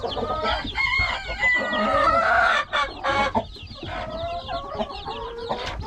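A flock of 13 young feathered chickens clucks and chirps close by in a busy, continuous cluster of calls with no talk.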